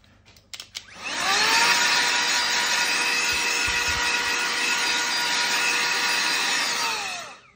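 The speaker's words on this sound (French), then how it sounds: "Moi, j'ai une petite soufflette." Small handheld air blower running loud and steady for several seconds, cleaning dust from the motherboard of a 13-inch mid-2010 MacBook Pro Unibody during a heatsink replacement, after a few brief clicks and handling knocks.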